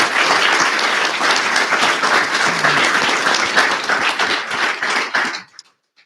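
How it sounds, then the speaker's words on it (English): Sustained applause from a conference audience for panelists, dense and steady for about five seconds before cutting off into silence. "a round of applause for our panelists"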